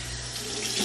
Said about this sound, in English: I'm gonna put like water on this brush